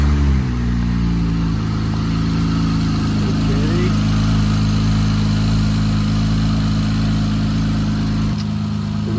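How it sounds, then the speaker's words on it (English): An Acura RL with a newly installed throttle body spacer idles steadily at close range, its low, even engine hum holding constant with a slight dip near the end while a person speaks faintly over it. "we're gonna let it idle for like a few minutes so it gets used to the airflow"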